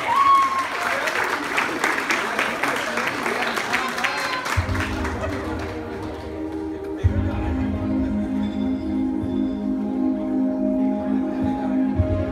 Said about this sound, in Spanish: Que se escuche bien fuerte, fuerte el aplauso.